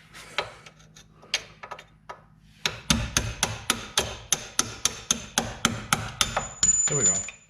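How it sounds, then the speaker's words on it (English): Metal punch struck repeatedly with a hammer to drive a part out of a Nissan Altima front strut assembly: about fourteen sharp, evenly paced close metallic blows after a few lighter taps and handling noises. "May have to poke that one out with a little punch"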